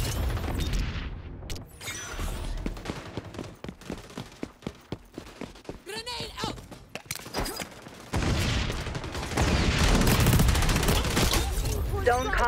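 A grenade blast and rapid gunfire sound in an XDefiant multiplayer match: loud, dense bursts of shots and booms close up, mixed with brief game voice callouts.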